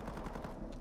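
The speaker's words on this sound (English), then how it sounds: "Somebody shooting at the wall?" Rapid automatic gunfire in the Warzone 2 video game, a quick train of muffled shots in an even rhythm, faint and short.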